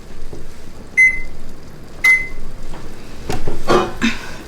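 Two clear single beeps from an oven control panel as it is set to 350, about a second apart, followed by clinking of pans and dishes nearby.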